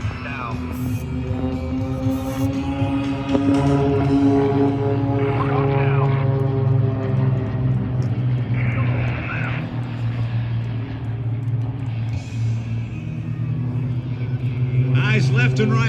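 Northern Stars aerobatic propeller airplanes at an air show flying the Cobra downward burst, a steady loud engine drone with rising and falling pitch sweeps throughout, under a commentator's talk.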